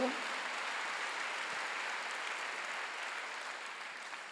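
Sustained applause from a large church congregation at a Wednesday service fills the space, a steady wash of clapping that slowly tapers off.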